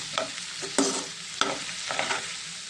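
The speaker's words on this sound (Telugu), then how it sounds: "మనం మిశ్రమం అంతా కూడా ఈ బెండకాయ ముక్కలకి కలిసేంత వరకు కూడా కలుపుకోవాలి" A spatula scrapes and stirs through okra pieces and spice mixture in a pan, several distinct strokes against a soft background sizzle, close and fairly quiet.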